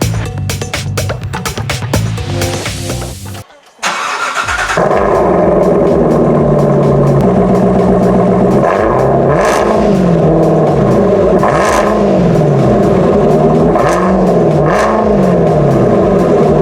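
A 2019 Corvette C7 fitted with a Magnaflow exhaust cranks and fires up. It settles into a loud, rumbling idle, then gives several sharp revs that climb and fall in repeated swells.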